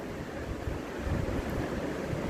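Water boils in a covered pot for chicken biryani: a steady, dense rolling bubble and hiss that holds at a constant level throughout, with no voices.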